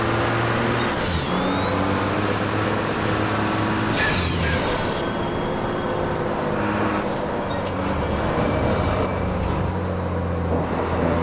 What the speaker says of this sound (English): Shifting it a bit too quick on the upshifts, doing my Formula single-seater method